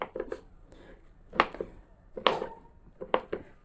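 A knife chops sharply through tempeh on a board, a handful of close, irregular strikes with brief pauses between them.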